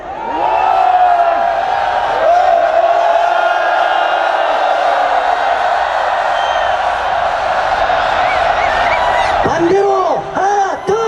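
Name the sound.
crowd shouting during a wave at a candlelight rally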